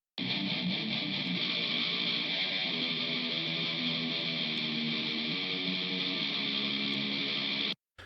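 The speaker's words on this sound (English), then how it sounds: "these two guitars have got a more scoop sound to them" Dense, continuous distorted electric guitars play a sustained heavy extreme-metal riff with a scooped, hollowed-out midrange, loud and steady, then cut off abruptly.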